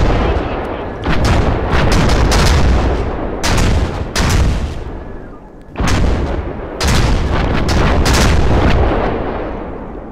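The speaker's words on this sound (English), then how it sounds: "That sounds like artillery fire." Heavy artillery and gunfire rumble in a military video game, loud and sustained, in long broad bursts broken by brief lulls, with no talk over it.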